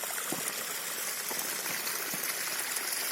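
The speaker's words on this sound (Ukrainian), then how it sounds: "Такі прикольненькі водоспадики" Small waterfalls in Victoria Park, Truro, on a frosty winter day give off a steady, close trickling and gushing rush with faint splashes throughout.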